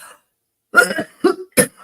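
Two or three short, dry coughs from a single person, close by, each burst separated by brief silence.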